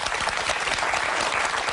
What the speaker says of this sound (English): a lovely hand and applause for Shannon